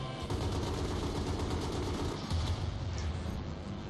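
Sustained gunfire from a firefight against a sniper in Battlefield Bad Company 2 Vietnam, a dense, continuous rattle of shots filling the whole stretch at steady loudness with no voices.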